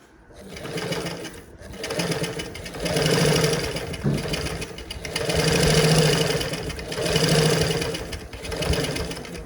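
A sewing machine stitches the folded edge of a boat neck blouse in close, steady bursts of rapid mechanical whirring, pausing briefly between runs, with no talking.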